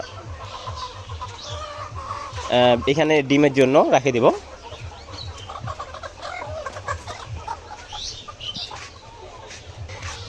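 Caged layer hens cluck in a short burst of rising, harmonic calls near the middle, with a person talking over a low farm-shed background before and after.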